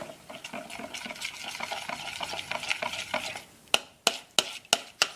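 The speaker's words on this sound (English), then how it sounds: "Stir that up." Thai peanut sauce being stirred in a slow cooker, with a thick, wet, rhythmic stirring close by, followed by four or five sharp clinks of the spoon against the crock.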